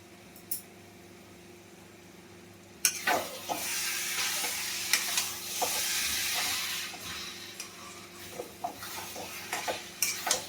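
Onion and poppy-seed paste frying in mustard oil, with a steady close sizzle that jumps up sharply partway through, plus repeated stirring scrapes and light ticks against the pan; no talking.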